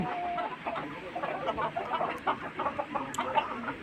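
A flock of tiger breed chickens, vaccinated parent stock now laying eggs in Tangail, clucks and murmurs continuously at moderate volume, with scattered overlapping calls and no talking.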